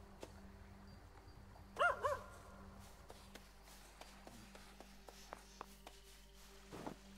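Hound sounds from the video game Hades II: a pair of short, quick barks or yips in the middle, set against quiet game ambience with scattered soft clicks and a faint later yelp.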